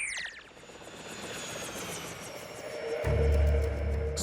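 A cartoon rescue-bot helicopter flies overhead with steady rotor whir and engine drone, swelling into a louder, deeper rumble toward the end.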